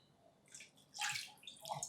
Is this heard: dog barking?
no